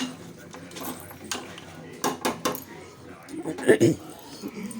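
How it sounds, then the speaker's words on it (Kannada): Metal clanks and clicks close by as a pressure cooker lid is fitted and locked shut over mutton sambar, with a few sharp knocks under some background talk. "ಕುಕ್ಕರ್ ಕ್ಲೋಸ್ ಮಾಡ್ತೀನಿ ಒಂದು ಅದೇ ಸಾಕು"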